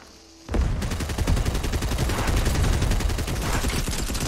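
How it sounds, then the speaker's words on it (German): Gunfire in the video game Fortnite erupts suddenly after a quiet moment and continues as rapid, dense automatic bursts, loud and sustained to the end. "Hinter uns kommen auch noch Schüsse."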